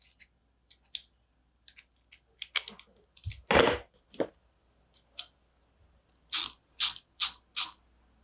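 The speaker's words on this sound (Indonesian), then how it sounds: "Jadi ini adalah ratchet bit driver." A Stanley ratchet bit driver clicks close up, with scattered short ticks, a louder rattling burst midway, then four sharp, evenly spaced ratcheting bursts near the end, with no voices.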